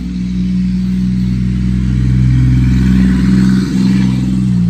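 Junk truck engine idling nearby at a steady, loud low rumble, with a slight rise in revs midway and no talk over it.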